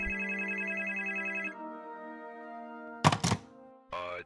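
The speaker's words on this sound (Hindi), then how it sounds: "तभी दुकान का लैंडलाइन फोन बज उठा।" An electronic shop landline telephone ring with steady harmonic tones, then a shift in pitch, a sharp clatter like a handset being picked up, and a brief buzzing tone.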